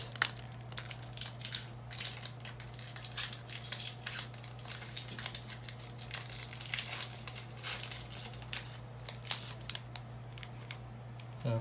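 A Pokémon TCG Sword and Shield booster pack being opened up close, with repeated crinkling and crumpling of the foil wrapper and sharp tearing bursts over a low steady hum.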